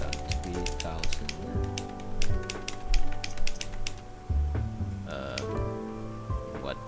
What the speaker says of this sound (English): We are typing it down.